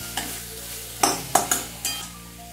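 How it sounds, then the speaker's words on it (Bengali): Onions fry in a pan and are stirred now and then. A soft continuous sizzle is broken by about five sharp scraping strokes of the spatula, which come in quick bursts up close. "পেঁয়াজটা নেড়ে ছেড়ে জলের ছিটে দিয়ে একটু ঢাকা দিয়ে দিচ্ছি"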